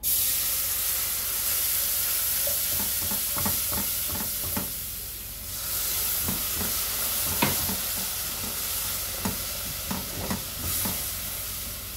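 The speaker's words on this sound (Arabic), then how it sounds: "هنزل بالميه بتاع القرع" Pumpkin water hits flour toasting in ghee in a pot and sets off a loud, continuous steamy hiss and sizzle, close up, with scattered knocks of a spoon stirring through it. No talking is heard.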